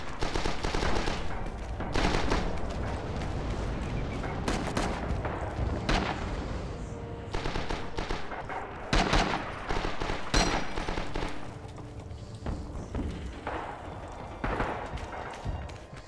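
Dense gunfire in the Rising Storm shooter, M19 trench gun in use, with rapid bursts and sharp reports layered over constant battlefield din, loud and continuous for the whole stretch.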